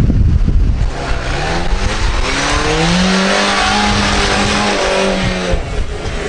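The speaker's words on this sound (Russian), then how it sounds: "Машины едут." A Lada Niva and a Dacia Duster drive off during an off-road test on muddy ground, their engines loud and revving with rising, straining tones and some tire noise, steady and close throughout.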